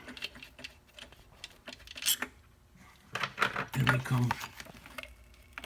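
Small 7 mm supercharger bolts are pulled out by hand, giving faint metallic clicks and light rattles under a man's close, quiet talk.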